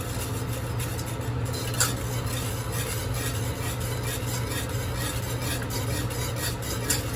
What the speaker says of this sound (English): Now, we'll give that a quick mix.